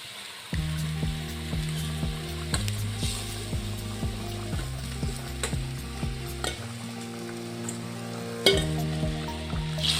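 Fish added to a hot pan of simmering manimuni herb broth, a continuous loud frying sizzle with stirring, alongside a steady repeating mechanical ticking pattern, no talk.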